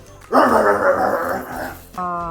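Dogs at play give out rough, noisy barking and growling close by, ending with a short whining yip.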